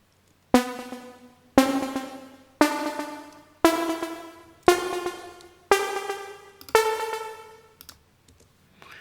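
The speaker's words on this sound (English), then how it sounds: "It's a bit more squeezed, a bit more squelchy" Squelchy synth bass with tweaked filter resonance, programmed in Logic Pro, playing seven evenly spaced sustained notes about a second apart, each with a sharp attack and a slow decay, loud and alone with no voices.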